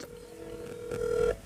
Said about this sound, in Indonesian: Ini ku telepon dia ya